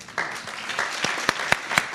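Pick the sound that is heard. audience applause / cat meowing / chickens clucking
audience applause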